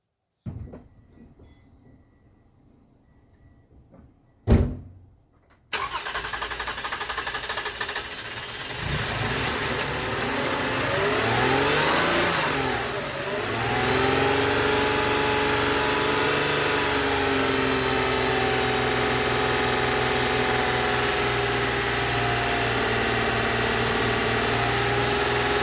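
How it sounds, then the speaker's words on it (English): A 2015 Toyota Sienna 3.5 V6 with an ignition coil fault: a short clunk, then the engine starts with a burst and settles into a steady loud idle, revving up briefly before holding an even hum throughout. "we are going to start the vehicle"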